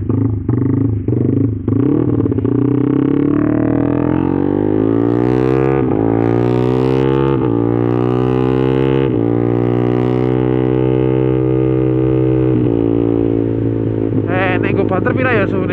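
A motorcycle engine fitted with an aftermarket racing radiator blips a few times, then revs up in long rising and falling sweeps, loud and close, with a rough rumbling idle between.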